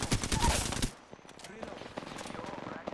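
Rapid automatic gunfire from an Apex Legends firefight, loud dense bursts for the first second, then fainter scattered shots and clatter continue in the background.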